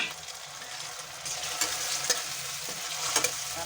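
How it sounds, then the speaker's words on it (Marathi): Tomatoes sizzle in a hot pan for a fresh bean rajma masala, with a steady close frying hiss and a few sharp clicks of stirring. "आता आपण टमाटे टाकून घेऊया."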